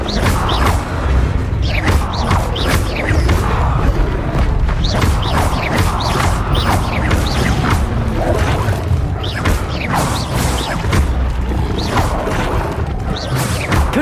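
Repeated fiery explosions from the Confringo spell in the video game Hogwarts Legacy, a sustained rumbling barrage of booms and crackling blasts with whooshing bursts, loud and continuous throughout.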